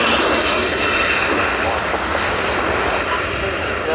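An Etihad airliner at Dublin Airport roars loudly and steadily, a dense jet-engine rumble filling the whole stretch, with voices faintly present beneath it.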